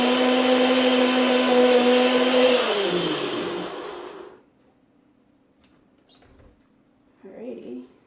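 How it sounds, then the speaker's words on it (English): A NutriBullet blender whirs loudly as it mixes dog treat ingredients, a steady motor drone that winds down and cuts off around four seconds, followed by near silence and a brief faint clatter. "I just put it in the NutriBullet and mix it up a little"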